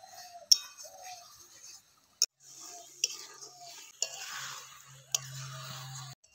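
A spoon or spatula stirs mashed cabbage bhorta in a pan as the extra water cooks off, giving soft scraping with a few sharp clinks against the metal, close and fairly quiet.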